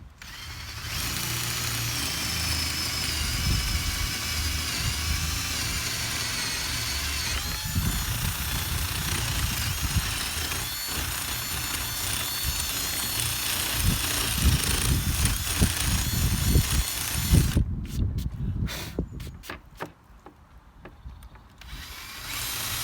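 A power drill whines steadily, enlarging a hole in wood with grinding surges, then winds down and stops near the end with a few short bursts.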